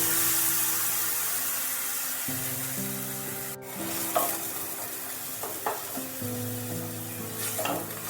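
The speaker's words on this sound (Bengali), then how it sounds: "ফোড়নটা একটু ভেজে নিতে হবে। গ্যাসের ফ্লেম একেবারে সিম করা আছে। দিয়ে দিচ্ছি সেদ্ধ করে রাখা আমড়াগুলো।" Boiled hog plums drop into a spice tempering frying on a low simmer flame, setting off a soft sizzle with light stirring scrapes and a faint background hum, with no voices.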